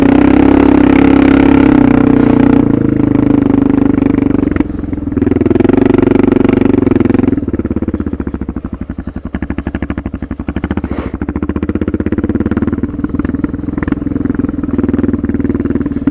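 A tuned Suzuki DR650 with a Procycle jet kit runs steadily while being ridden, its engine loud and close with a throbbing mid-pitched drone that eases off partway through and then carries on at low throttle.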